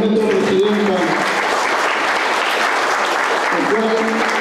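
Applause from a crowd at a municipal council event in Puerto López, a dense steady patter filling the room while a voice speaks over it at the start and end.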